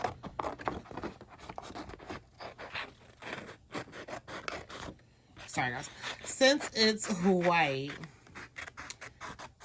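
Scissors snip and scrape steadily through thin waterslide decal paper in short repeated close cuts, while a person talks over the latter part.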